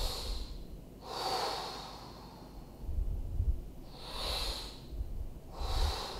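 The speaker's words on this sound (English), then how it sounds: "Now you're going to focus on belly breathing." Slow, deep belly breathing done as an exercise for asthma and anxiety: three or four long, airy inhales and exhales through nose or mouth, close to the mic, with soft low rumbles between breaths.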